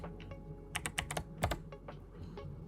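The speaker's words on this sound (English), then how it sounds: "You type the password that you created" A password being typed on a computer keyboard during Docker setup on Ubuntu: a quick cluster of close, soft key taps, a few in rapid succession, quiet and without talk.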